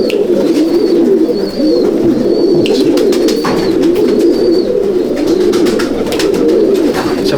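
Andhra pigeons in a loft coo steadily and overlap in a continuous low, rolling murmur, with a few brief higher chirps and bird calls above it throughout.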